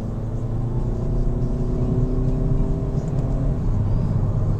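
Hard acceleration in a VW T-Roc 2.0 TDI 150 hp diesel with a DSG7 gearbox, a steady loud in-cabin engine drone that rises slightly in pitch, with no voices heard.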